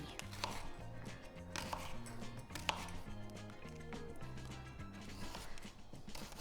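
Vegetables being chopped on a chopping board with a knife: a close, steady run of quick, sharp knocks through the clip, with a faint tonal background and no talking.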